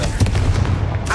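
A Confringo blasting spell in the video game Hogwarts Legacy erupts as a loud, close burst with a rumbling low body and crackling tail.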